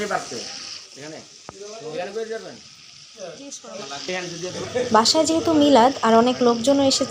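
Marinated chicken pieces frying in a large pot over a stove for a big home gathering, a steady sizzle running beneath close talk from the cook with other voices around.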